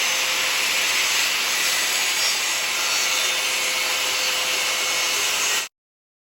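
A circular saw cutting through half-cut plywood hardboard, a loud, continuous high-pitched whine and rasp held steady for several seconds, then stopping abruptly into silence.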